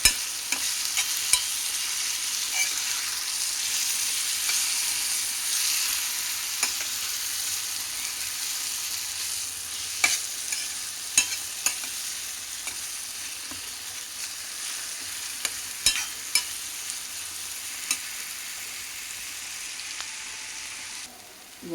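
Roasted eggplant chutney sizzles in a pan while a spoon stirs it, giving a continuous steady frying hiss broken by occasional sharp scrapes and clicks of the utensil, close and fairly loud.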